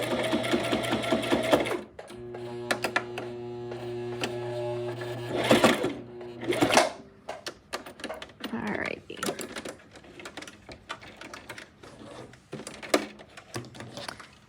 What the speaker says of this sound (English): you're just going to do a forward stitch and then a back stitch just to make sure that nothing comes undone